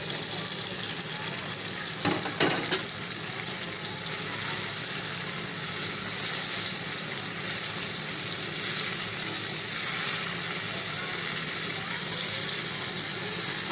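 Ginger paste frying in a pan of chicken for white chicken karahi, a continuous close sizzle with brief stirring scrapes near the start, steady and without talking.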